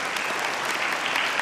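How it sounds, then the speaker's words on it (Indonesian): A TV studio audience claps in a short, dense, even burst of applause with no talk over it. "kita beri tepuk tangan sahabat jiwa"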